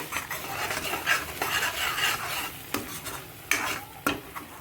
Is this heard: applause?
no